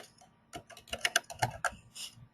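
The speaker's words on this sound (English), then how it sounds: "the Bob is typing indication is showing up on Carl's device when Bob is typing" Rapid taps on a phone's on-screen keyboard, a quiet, irregular burst of clicks with no talk.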